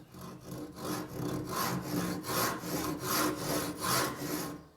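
A hand saw cuts through wood in steady back-and-forth strokes, each rasping pass rising and falling in a regular rhythm, close and clear with no voices.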